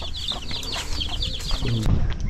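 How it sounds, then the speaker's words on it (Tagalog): Chicks and chickens on a farm make a busy mix of high peeping and clucking, close and continuous, with a few lower hen calls and a brief rustle near the end. "daming sisiw oh"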